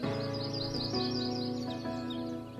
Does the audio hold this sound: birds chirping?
yes